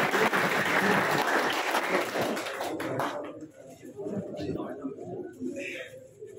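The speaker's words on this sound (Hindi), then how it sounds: "तालियां ऐसी होनी चाहिए कि नीचे लोगों को भी पता चल जाए" An audience applauding loudly for a few seconds at a traditional teacher-student ceremony, then the clapping fades out, leaving murmuring voices and faint birds cooing.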